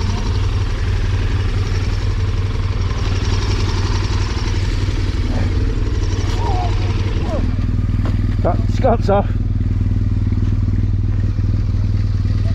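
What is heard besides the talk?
motorcycle engine running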